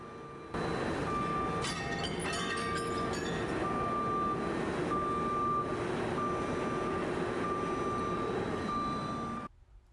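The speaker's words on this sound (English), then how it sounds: "Trucks are weighed, then they drive over to the enclosed receiving area to dump a load onto the tipping floor." A garbage truck backs into the enclosed receiving area of a waste-to-energy facility, its reversing beeper pulsing steadily over loud diesel engine rumble and clattering, with a dumping rattle early on, close and continuous.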